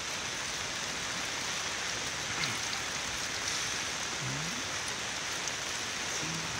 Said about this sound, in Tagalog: nag-uulan na